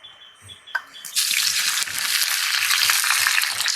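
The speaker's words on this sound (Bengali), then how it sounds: "তেল গরম হয়ে গিয়েছে, ভেন্ডিগুলো ভেজে নিচ্ছি।" Okra hits hot oil in a village kitchen, a few faint clatters and knocks giving way to a sudden loud, dense hissing sizzle that holds steady and close to the end.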